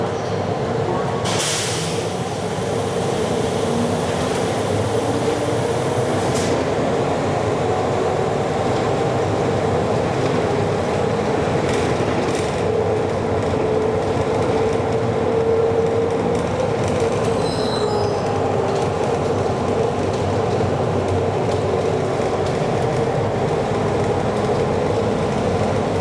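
A Miami Metromover train runs toward a station with a steady low rumble and rolling wheel noise, brief high squeals breaking through now and then along the way.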